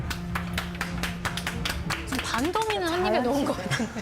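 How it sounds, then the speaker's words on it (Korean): Scattered hand claps during a tasting of a thick, cheese-filled pork cutlet at a traditional market, mixed in with lively talk and laughter from several voices. "이야 박수"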